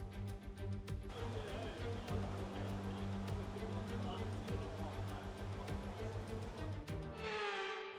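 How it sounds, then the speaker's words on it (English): Heavy rain at the Shanghai circuit during sprint qualifying in F1 2024, a dense continuous hiss of downpour layered over low idling engine hum, with someone talking throughout. "It is pouring down with rain"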